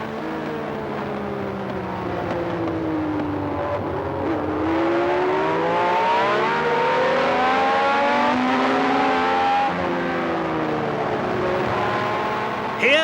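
Formula 1 race car engine screaming at high revs from an onboard position at Monza in September, pitch climbing and dipping through gear changes as the car powers through the Lesmo curves, loud and continuous throughout.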